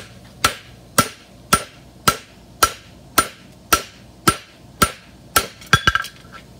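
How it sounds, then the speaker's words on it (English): Steady, evenly spaced hammer blows ring on metal being fullered with the hammer's edge on an anvil horn, about two per second, close and loud, ending in a quick flurry of lighter strikes. "And use the edge of your hammer and fuller it out."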